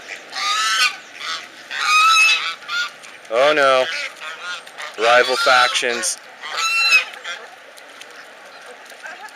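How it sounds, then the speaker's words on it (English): Ducks squabble in a fight, bursts of loud nasal honking and harsh calls coming close together and overlapping, with a person speaking briefly between them. "Oh, duck fight."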